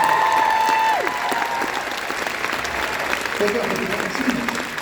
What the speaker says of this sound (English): Do you guys give a huge round of applause?